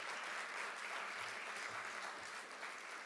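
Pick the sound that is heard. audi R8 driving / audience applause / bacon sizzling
audience applause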